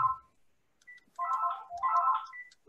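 A telephone ringing in another room, muffled electronic ring bursts in short repeated pulses, fairly faint and distant against otherwise quiet surroundings.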